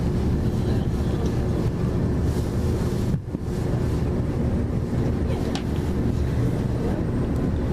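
A Turbostar diesel train passes at a station near Edinburgh Waverley: a loud, steady rumble buffeted by wind on the microphone, with a brief dip and a sharp squeal partway through.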